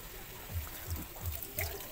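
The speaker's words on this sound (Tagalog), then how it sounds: "lalagyan natin siya ng tubig" Water pours into a pot of Bicolano adobo sa asin on the stove, a soft trickling splash in short repeated bursts, faint and close.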